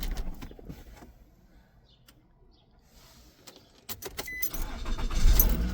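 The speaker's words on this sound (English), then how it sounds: "You can see the vehicle is running right now." A 2011 Nissan Rogue with a no-start fault, its engine heard faintly idling, then growing louder after a few clunks and clicks near the end.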